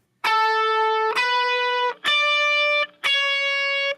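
Electric guitar with a distorted, effects-laden tone plays an intro lead, four loud sustained notes struck about once a second with brief gaps between them, close and alone.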